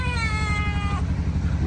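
A cat meows close by in a home kitchen, one drawn-out, falling meow followed by a softer second call, heard alone over a low background hum.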